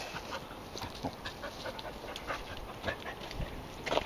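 A dog pants quickly and faintly nearby and lets out soft whimpers now and then, with a steady rhythm over quiet outdoor background noise.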